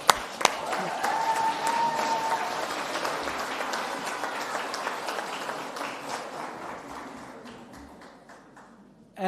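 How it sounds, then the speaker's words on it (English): Crowd applause at an awards ceremony, a dense spread of clapping that starts strong, carries on steadily and gradually fades away toward the end, with a brief voice at the start. "Applause for Jandre."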